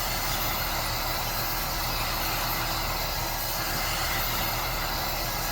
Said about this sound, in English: I don't use a torch, I use an air gun,